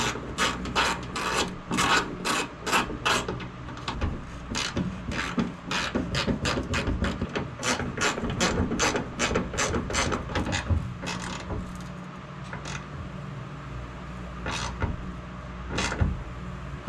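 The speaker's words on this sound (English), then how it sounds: "bear with me while we take these bolts out and get these brackets installed" A ratchet removing bolts to mount ditch light brackets on a Toyota Tundra truck, a rapid run of sharp rasping clicks in repeated bursts, close and fairly loud, thinning out toward the end.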